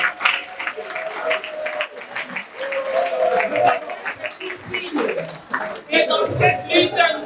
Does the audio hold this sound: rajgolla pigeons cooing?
no